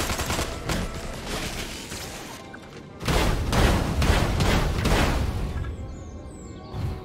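Gunfire in the Destroy All Humans! video game, rapid bursts of shots and booms that ease off briefly, then return as a louder sustained barrage.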